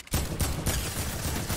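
Rapid burst of gunfire in the Fortnite video game, a quick string of several shots in close succession, loud and up front with no talk over it.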